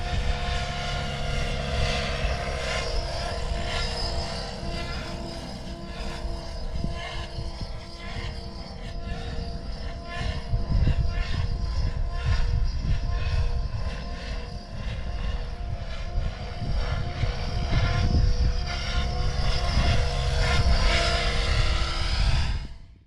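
A 3D aerobatic RC airplane flies a pirouetting circle, its propeller and motor giving a continuous buzzing whine whose pitch and loudness swell and dip as the model turns, heard alone and fairly close.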